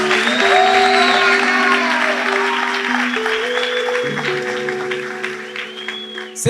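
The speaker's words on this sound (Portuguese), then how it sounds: "Você está aplaudindo Jesus aí, muito fraquinho, pode aplaudir mais forte." Church congregation applauding during a worship service, steady clapping under sustained music and singing that fades slightly toward the end.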